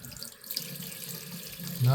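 Tap water runs into a bathroom sink during a shave, a steady soft splash that grows louder and fuller near the end as the flow strengthens.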